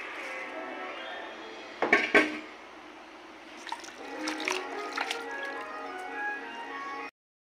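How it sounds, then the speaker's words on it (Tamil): Chopped spinach being washed in a bowl of water, with soft drips, splashes and squishy handling of wet leaves, close and quiet, a few sharper clinks of a vessel partway through, no talking. "தண்ணியில் போட்டு கழுவி எடுத்துக்கணும்."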